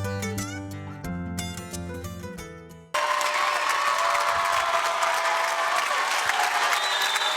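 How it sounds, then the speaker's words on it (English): Loud crowd cheering and applause fills a gym at a boys' high school basketball sectional championship, a steady roar that bursts in suddenly after a stretch of music and stays dense to the end. "Well, you can hear the crowd,"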